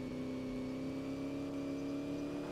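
A car engine in the racing video game Auto Club Revolution holds a steady, faint whirring drone, a constant even tone with no change in pitch, heard alone.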